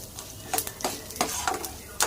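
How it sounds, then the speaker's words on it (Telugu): Sesame seeds and spices fry in a pan for an ivy gourd masala curry while a spatula stirs them, producing a soft sizzle under several sharp scraping strokes at irregular intervals; no talking. "నేను మాడిపోకుండా గెరిటితో కలుపుకుంటూ ఉన్నాను"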